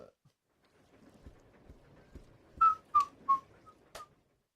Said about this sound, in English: I've been whistling this evening.